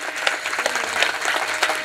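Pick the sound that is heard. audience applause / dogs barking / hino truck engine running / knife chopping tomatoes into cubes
audience applause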